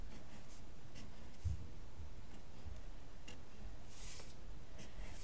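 Pencil scratching short strokes on paper to draw clusters of grass triangles, faint and steady with soft, irregular ticking strokes throughout and no voice.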